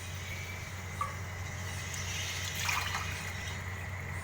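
A glass of water poured into a pot of rice and yakhni broth for a healthy rice dish, heard as a soft, steady trickle under low kitchen hum, with a faint rush near the end.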